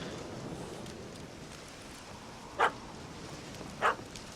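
A puppy in The Witcher 3: Hearts of Stone gives two short, fairly faint barks a second or so apart over a soft steady rain-like ambience.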